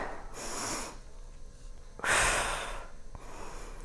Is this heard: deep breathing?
yes